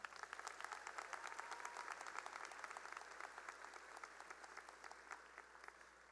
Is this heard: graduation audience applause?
yes